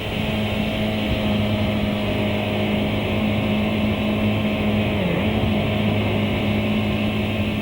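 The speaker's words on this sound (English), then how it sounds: "At 85 miles per hour, the bike begins to weave quite spontaneously." A Kawasaki motorcycle cruises at 85 mph, its engine holding a loud, steady drone with constant wind rush throughout and a brief dip in pitch partway through, no voices.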